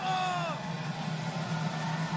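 A crowd at a wrestling match cheers and yells in a steady, distant roar, with one rising whoop standing out near the start.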